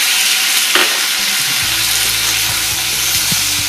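Eggplant for a Tamil ennai kathrikai kuzhambu sautés loudly in oil in a pan, with a dense steady sizzle and occasional stirring scrapes, close up and with no voices.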